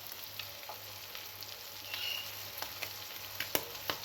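Cumin, cardamom and ground black pepper sizzling in hot oil in a pan, a quiet steady crackle with scattered sharp pops and spits, heard alone without talk.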